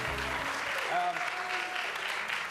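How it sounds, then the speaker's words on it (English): Audience applause at an upper school spring theatre showcase, a dense wash of clapping filling the room steadily throughout. "Give yourselves a round of applause for coming out to this supporting theater."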